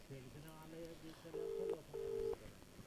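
A telephone ringback on a call to a local official, heard as two short steady electronic tone bursts against a quiet line, with no talk over them.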